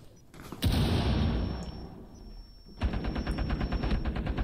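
A light machine gun firing in the video game Rainbow Six Siege, a loud close blast and roar followed by a rapid, steady stream of automatic shots after a short lull.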